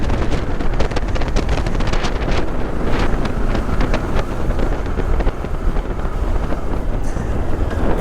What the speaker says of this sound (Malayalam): കാറ്റ് നല്ലോണം അടിക്കുന്നുണ്ട്.